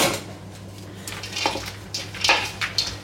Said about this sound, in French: Voilà, on mélange tout ça.